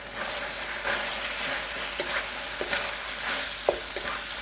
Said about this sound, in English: but not with stir frying